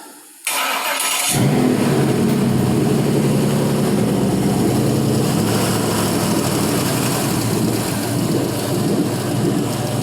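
A 5.3L LM7 V8 running on an engine test stand starts after a short silence, then holds a loud, steady idle with a deep low rumble and broad mechanical roar for the rest of the clip, with no talking.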